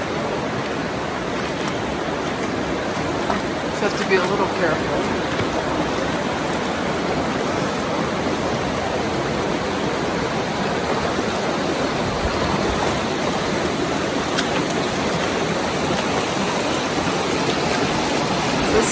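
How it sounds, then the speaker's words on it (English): Shallow river water in the Narrows sloshes and splashes steadily as someone wades through it, a constant broadband rush with small splashing accents, close and loud. A brief remark is spoken over the water. "Check this out. I'm walking in the water."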